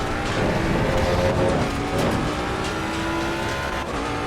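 A 550 HP Ford Mustang GT3 race car drives on a track, its engine roaring loud and steady throughout with shifting tonal pitches and some tire noise, no speech.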